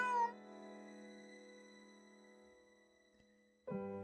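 A cat gives one long drawn-out meow, clear and fairly close, then a second meow starts right at the end after a short pause; no talking.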